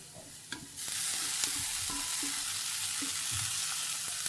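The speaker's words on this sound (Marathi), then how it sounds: "आनी आतां कांदो आसा न्ही मातसो लायट ब्रावन जावं न्ही. सो आतां घालता हांव टोमॅटो." Tomatoes are tipped into onions frying in a pan, and the quiet start gives way to a loud, steady hiss of sizzling oil. Spoon taps and stirring scrapes sound close throughout, with no talking.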